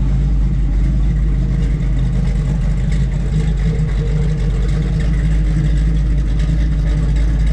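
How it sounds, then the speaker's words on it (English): A 1961 Chevrolet Corvette convertible runs through its dual exhaust, a steady, loud low rumble heard up close with no talk over it. "Let you hear the dual exhaust in the back."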